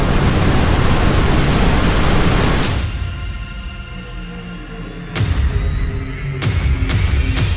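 Yosemite Falls in Yosemite Valley roars as a loud, broad rush of falling water, dropping briefly as the recording shifts, then surging back with sharp wind-like bursts and no talk.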